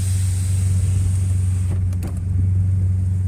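A Gen 2 Chevrolet Cruze with a TD025S hybrid turbo hums steadily and loudly from inside the vehicle, with a brief dip partway through before the drone returns.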